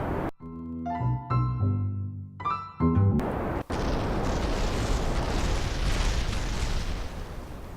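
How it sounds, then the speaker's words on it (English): A rocket explodes in Kerbal Space Program: a few tonal musical notes give way to a sudden sharp blast, then a loud, sustained roaring rumble of debris and fire. "it's a good thing we braced for explosion because we got one"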